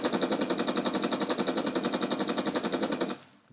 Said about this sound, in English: if we quickly listen to the Gatling cannons